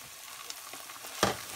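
Spices fry and get stirred in a pan for paella, making a soft sizzle broken by a few light scrapes and one louder stirring scrape near the end of a brief moment.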